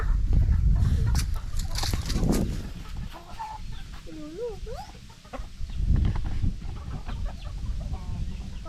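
Chickens, including jungle fowl and black chickens, cluck and chatter nearby, with soft warbling calls from several birds over a rumbling, noisy outdoor background.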